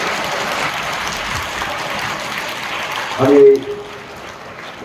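Loud applause from an audience at a school sports festival opening ceremony, a broad steady crowd clapping that swells briefly near the end before easing off, with a voice speaking over it.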